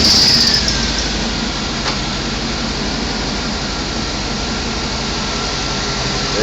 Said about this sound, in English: Motor running smooth.